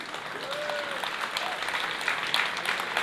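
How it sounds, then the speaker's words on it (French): An audience at a political rally in Flixecourt applauds, a steady, fairly distant wash of clapping with a brief high-pitched whistle-like tone near the start. "Vous pouvez applaudir ça"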